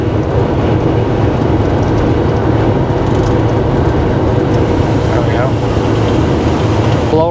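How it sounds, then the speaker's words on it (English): The heater blower motor in a 1990 Chevrolet K1500 pickup runs with a steady, loud airy rush close to the listener, with a brief voice near the end. "the blower produces a good amount of air."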